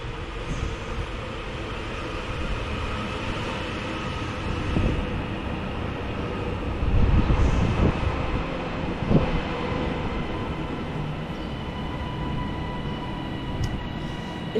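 A train rumbles steadily into Bolton station, the low roar swelling and easing under faint station ambience, with no voices.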